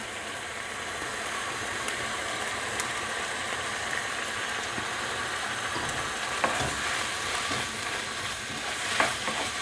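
Bamboo shoots tossed into a stir-fry of minced pork, a continuous soft sizzle with occasional clicks of a utensil against the pan, steady and moderately quiet, no voices.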